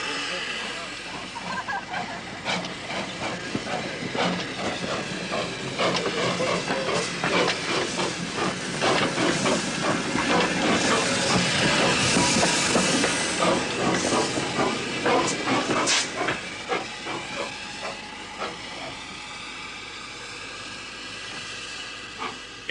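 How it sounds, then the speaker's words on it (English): A replica of Stephenson's Rocket steam locomotive works hard, its exhaust hissing steadily with a chuffing rhythm beneath mechanical clatter, loud and close throughout, with a voice talking over part of it. "you can hear it quite distinctly in that steady chuff of the replica."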